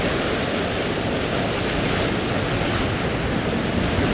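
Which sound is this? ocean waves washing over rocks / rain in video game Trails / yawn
ocean waves washing over rocks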